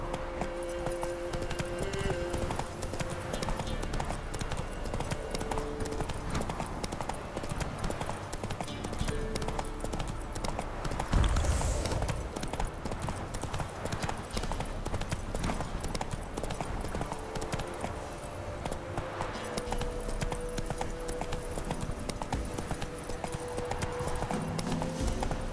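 Steady clip-clop of a galloping horse, Roach, in The Witcher 3: Wild Hunt, rapid and continuous hoofbeats dominating throughout with occasional snorting.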